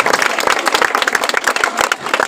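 Applause from a gathering celebrating a birthday in Ghazipur as a father is garlanded, dense brisk clapping with sharp rapid slaps, loud and close throughout.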